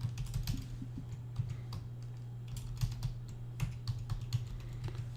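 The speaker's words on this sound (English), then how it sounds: "then we'll start typing in some information" Typing on a computer keyboard, quick irregular clicks and taps close by, steady through the stretch over a low constant hum, with no voices.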